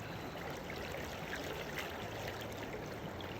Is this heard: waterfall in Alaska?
yes